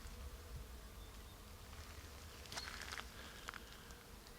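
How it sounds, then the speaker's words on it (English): Bees hum around madrone trees in full flower in a Portuguese permaculture garden, a faint, steady insect drone with a few nearer buzzing passes rising briefly over the quiet background. "when you walk past them, they're all humming with bees"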